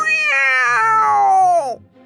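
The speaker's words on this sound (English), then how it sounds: "A cat with sharp teeth, sharp claws jumps up on the table." A cat lets out one long, drawn-out meow, loud and close, with a wavering pitch that falls away at the end and then goes quiet.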